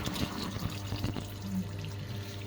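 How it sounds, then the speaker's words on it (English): Hot water runs steadily from a kitchen tap, a continuous close splashing flow with small gurgles, no voices. "It's hot water out the tap, that's about it."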